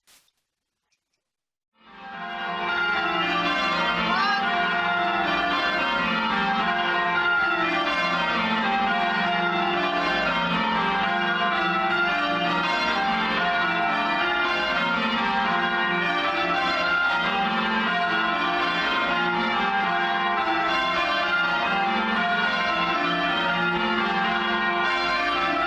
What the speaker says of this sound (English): So that's Kenwyn bells ringing grands and triples